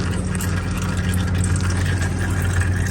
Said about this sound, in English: with the oil draining